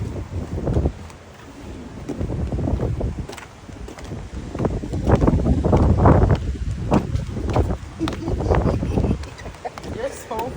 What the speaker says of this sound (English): Out here is very windy